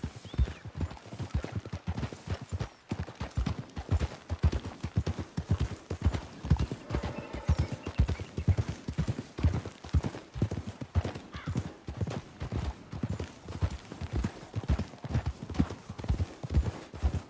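Horses trotting in the video game Red Dead Redemption 2, hooves clip-clopping in a quick steady rhythm, close and clear, with a faint voice briefly underneath.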